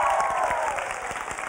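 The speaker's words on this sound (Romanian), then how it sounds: "Și în aplauzele susținătorilor, echipa școlii 54 împreună cu capitanul Andreea Raicu." Brief burst of supporters' applause greets the School No. 54 team and its captain at the EuroQuiz final, dense clapping with a little crowd noise, tapering slightly over a second and a half.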